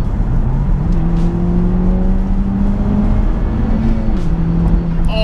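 A brand new Honda Civic FK2 Type R accelerates hard on a B road, its turbocharged engine a loud continuous drone rising in pitch through the gear, briefly dipping at a shift before climbing again.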